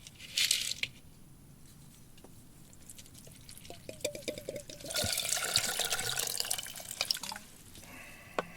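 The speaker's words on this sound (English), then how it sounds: "The water from this nearby stream will be used with the acorn shells to dye the buckskin" Water from a nearby stream trickles and splashes with scattered drips, quiet at first, then swelling into a louder, fuller gush midway before easing off.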